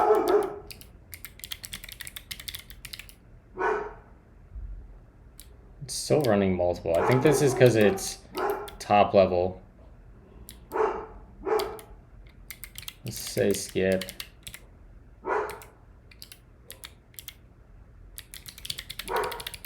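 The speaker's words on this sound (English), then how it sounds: "Sorry for the barking dogs" Several dogs bark in the background at home, with a burst of loud barking mid-clip over ongoing talk and intermittent computer keyboard typing.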